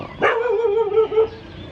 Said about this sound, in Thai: อะไรเห่าหนูอีกแล้ว